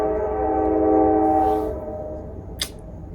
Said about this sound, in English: Should I wait until the train's done?